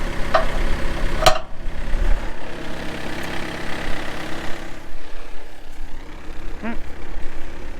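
A loud engine drones steadily throughout, rumbling low and constant, with a couple of brief clicks and faint rattles over it.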